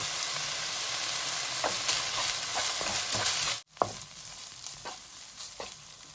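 Fried rice being stir-fried in a pan with sauce and sugar, a steady sizzle broken by scraping stirs and a brief pause, quiet and without talk.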